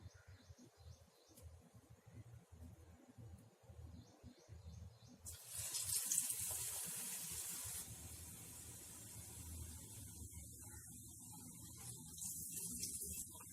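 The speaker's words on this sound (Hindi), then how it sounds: "सबसे पहले हम आलू के पकोड़े फ्राई कर लेते हैं।" Potato pakoras dropped into hot oil in a pan on medium flame, a quiet background at first, then a bright sizzling hiss that swells suddenly and keeps crackling steadily to the end.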